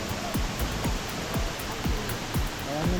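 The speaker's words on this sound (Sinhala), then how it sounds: "මම ළමර කල්ලි ඇල්ල ගාවට ඇවිල්ලා තියෙනවා" Lamara Kalli waterfall in Sri Lanka heard from very close, a steady, dense roar of falling water filling the scene without pause, with no voices over it.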